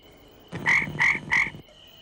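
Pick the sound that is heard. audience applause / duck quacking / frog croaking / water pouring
frog croaking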